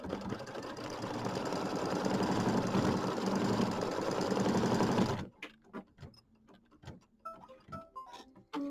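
A sewing machine tacks down a quilt piece, running steadily and loudly for about five seconds before stopping, followed by quiet clicks and handling noises.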